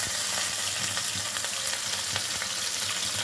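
Onions and green chillies fry in hot oil for a chicken curry, a loud steady sizzle and crackle with faint stirring scrapes, close up and without talk.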